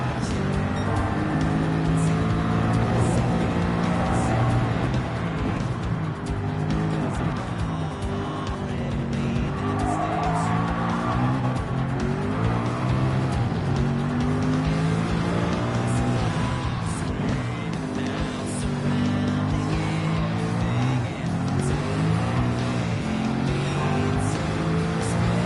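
Race cars in Gran Turismo 7 roar continuously, engines rising and falling through gear changes while tires squeal through corners, a dense unbroken mix of several motors at close range.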